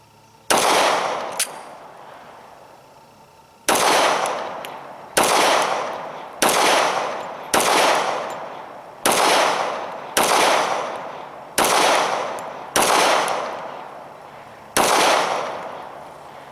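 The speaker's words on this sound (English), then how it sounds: "I'm shooting 7 yards here, and I've got a center target, and I'm just going for slow fire center shots and trying to get good hits." A Glock 21 pistol in .45 ACP fires slow, deliberate shots at 7 yards. Around ten loud, sharp reports come about a second apart, with a brief pause after the first couple, and each one rings out and decays.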